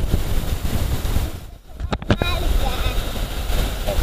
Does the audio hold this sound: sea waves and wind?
yes